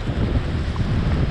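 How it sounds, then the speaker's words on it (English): Strong wind buffets the microphone with a low, continuous roar, steady and close, with surf-like rumble underneath. "Man, it is windy today, guys."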